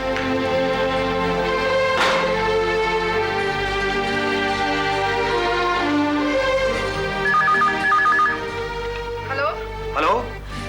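A telephone rings repeatedly in a home, its electronic tone cutting through a background music score and other sounds, with a few sharp accents along the way.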